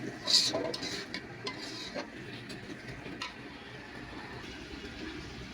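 Spice paste fries with mutton in a pan for a potato and pointed gourd curry: a metal spoon clatters and scrapes briefly at first, then a quiet, steady sizzle continues alone.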